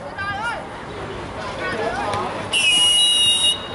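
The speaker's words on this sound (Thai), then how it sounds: "ตอนนี้มีเสียงนกหวีดซะแล้วครับ" Sharp sustained referee's whistle at an amateur Sevens League football match, blown once for about a second over crowd babble and an excited commentator's voice.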